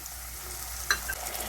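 Tomato paste frying in a pan for okra gojju, a low steady sizzle with one brief clink of a utensil against the pan midway.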